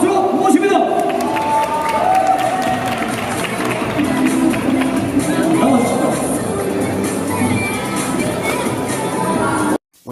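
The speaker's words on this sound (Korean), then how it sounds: "박수로 모십니다" A crowd applauds and cheers to welcome guests, including an LG Electronics executive and a welfare association chairman, at a donation ceremony; dense, loud clapping and hubbub fill the room beneath speech, then cut off abruptly near the end.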